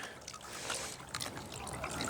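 A solar-powered water fountain trickles water in a faint, continuous, bubbly stream with small splashes.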